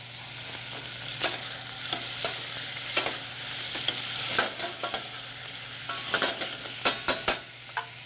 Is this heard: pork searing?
yes